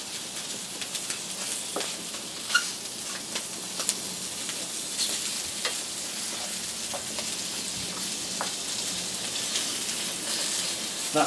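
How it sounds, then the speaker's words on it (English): Potatoes fry in butter in a small titanium plate used as a camping pan, giving a steady close sizzle with scattered pops and light scraping, and no voices. "That butter just helps the potatoes fry off a little bit."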